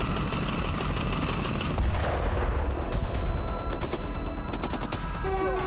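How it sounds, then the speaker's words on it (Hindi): Heavy rocket launcher and artillery fire from war footage around Pokrovsk, a dense continuous roar of rumbling blasts and crackling reports at steady high loudness, with no distinct pauses. "यह पूर्वी पोक्रोवस्क का वीडियो है, जहां रूसी सेना ने यूक्रेनी सैन्य ठिकानों को रॉकेट लॉन्चर से हमला कर ध्वस्त कर दिया।"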